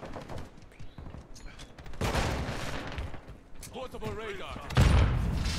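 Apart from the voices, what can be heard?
P90 gunfire in Modern Warfare 2 video game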